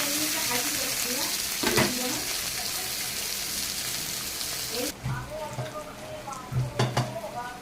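Fried onions with chopped tomato added sizzle steadily in a pan, with stirring scrapes and a change in the sizzle partway through as the tomato goes in; a person speaks over the cooking.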